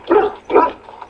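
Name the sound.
dog barking in the video game Dragon Age: Origins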